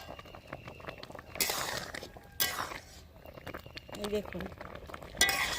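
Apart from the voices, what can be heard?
stirring homemade tomato sauce cooking in pan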